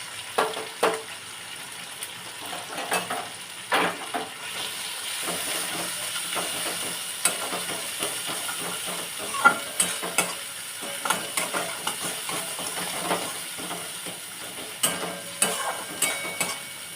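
Ginger paste with cumin and coriander powder frying in a pan, giving a constant hissing sizzle with irregular scrapes and taps of a stirring spoon, no voices.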